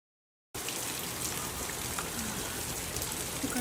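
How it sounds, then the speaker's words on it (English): Autumn rain falls steadily outdoors on grass and other surfaces, a dense, even hiss of drops that starts suddenly after a brief silence and continues without a break. "Nice summer rain or fall rain"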